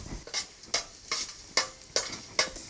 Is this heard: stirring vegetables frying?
yes